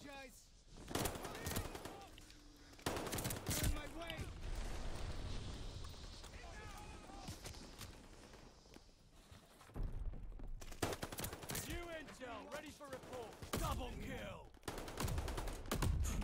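An MP40 submachine gun fires in a World War II-style shooter game, with sharp bursts of automatic fire in several clusters and footsteps and game noise between them. A player talks over the action.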